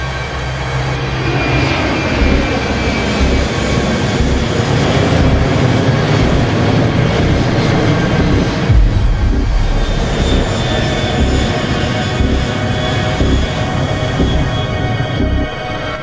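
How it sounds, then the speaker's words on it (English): A Malaysia Airlines airliner on flight MH370 climbs away from the runway on takeoff, its jet engines giving a loud, steady, unbroken roar and hum that fills the whole stretch with no voices. "the massive engines created a steady, calm hum in the sky"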